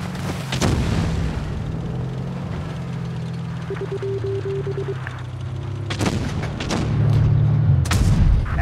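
Tank cannon shots and shell impacts in WoT Blitz, a French tier 8 tank battle, with several sharp booms spaced apart, louder bursts near the end, and synthetic voice alerts in between.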